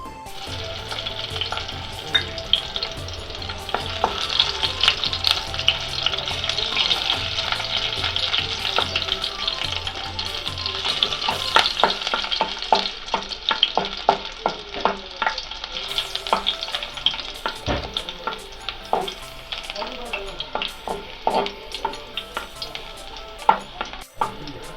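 Crushed garlic frying in oil for crab sukka, a loud steady sizzle near at hand punctuated by frequent sharp scrapes and taps of a spoon stirring against the pan, with no voices.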